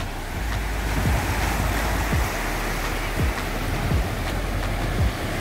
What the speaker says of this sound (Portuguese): as ondas estão batendo lá na pedra